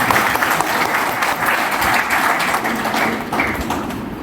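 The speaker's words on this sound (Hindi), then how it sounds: "तो सबसे पहले जोरदार खुद के लिए एक ताली।" A group at an outdoor nature retreat program at Pench applauds themselves, loud dense clapping close by, continuous and even for several seconds with no talking.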